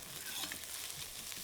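Onions frying in a pan for a chickpea curry, stirred often so they caramelise to a deep colour: a soft, steady sizzle with faint stirring scrapes, quiet and close, no talking.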